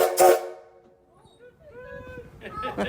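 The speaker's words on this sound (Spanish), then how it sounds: "para que los niños y turistas puedan saber lo que es usar un silbato de locomotora a vapor" A steam locomotive whistle from the Union Pacific 9000, sounded with compressed air, gives a short sustained tonal blast near the end after a brief toot at the start, with voices and background chatter around it.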